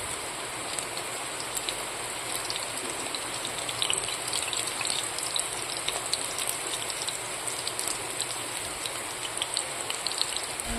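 Steady rain falls continuously, a dense even hiss with scattered patters of drops on surfaces, close by and constant throughout.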